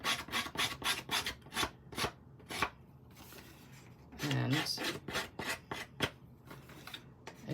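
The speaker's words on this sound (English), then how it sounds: "So you just drag your scissors down the edge." Scissor blades dragged repeatedly down the edge of a paper piece for a collage card, giving a rapid series of close, dry rasping scrapes with a brief pause midway and a short vocal sound.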